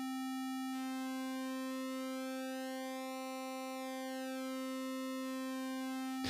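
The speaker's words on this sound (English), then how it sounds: "you can actually take this square wave and you can adjust the width of it and it gives you a different sound" Synthesizer square wave with its pulse width being modulated: a steady buzzy sustained tone whose brightness slowly sweeps and shifts, alone and fairly loud throughout.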